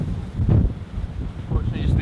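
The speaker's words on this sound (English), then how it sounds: "Get a bit windy." Gusty wind buffets the microphone aboard a Volvo Ocean Race sailboat at sea, a low, rumbling roar rising and falling in waves, with a faint voice underneath.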